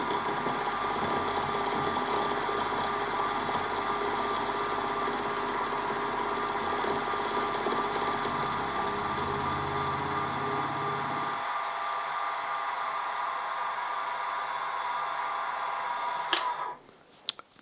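A milling machine cuts the front frame of a Farm Boy hit-and-miss engine with a 10mm cutter, giving a steady loud whirring grind that runs for most of the clip, then drops to a lighter hum before stopping.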